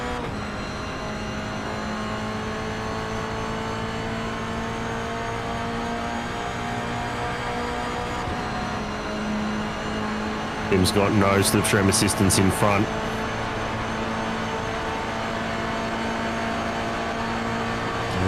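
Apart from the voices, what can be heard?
Toyota GR86 race cars' boxer engines at Monza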